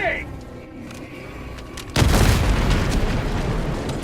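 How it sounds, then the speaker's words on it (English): A grenade blows up in the video game Helldivers 2. A single loud, deep boom lands midway and leaves a sustained rumbling roar under quieter game sounds. "Throwing grenade!"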